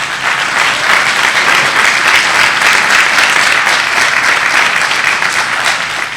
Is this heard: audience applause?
yes